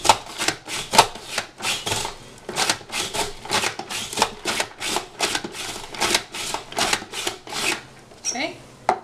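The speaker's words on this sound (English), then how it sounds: "So I'm just going to keep chopping these onions" A sliceOmatic vegetable slicer chopping onions, giving a fast run of sharp, close-up clacking chops in an uneven rhythm, with a short scraping sound near the end.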